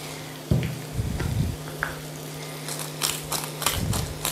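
Eggplant frying in a pan while being stirred, with a soft steady sizzle under a few scraping knocks of the utensil against the pan and brief crackling bursts, nobody talking.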